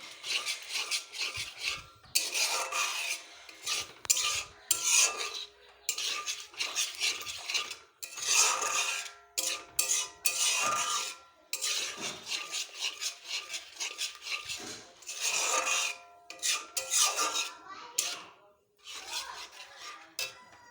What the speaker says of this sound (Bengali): দইটা দেওয়ার পরে কিছুক্ষণ নেড়ে নেব, ভালো করে মিশিয়ে নেব মশলাটার সঙ্গে